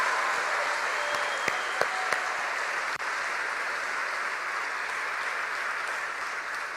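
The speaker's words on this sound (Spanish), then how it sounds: "Si le dan un aplauso, es un aplauso grande al Señor." A congregation at a church service applauds in a long, even wash of clapping that holds steady throughout, with a few sharper claps standing out near the start.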